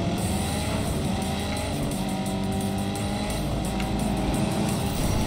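A Hot Wheels racing car in a video game roars with a sustained, loud boosted engine drone that holds steady throughout with no talk over it.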